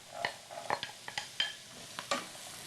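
Diced celery and onion sizzling in a pan for a heart-healthy casserole, a soft frying hiss broken by a series of sharp spoon scrapes and clicks against the pan, with no voices.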